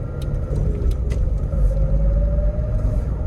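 A 1995 Toyota Hilux Surf drives along a straight road, heard from inside as a steady loud engine drone and road rumble with a faint rising tone, no voices.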